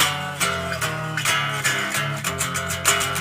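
The full bridge of a song rings out on a loud, distorted electric guitar. Chunky chords are struck in a steady rhythm, and the strokes get quicker toward the end.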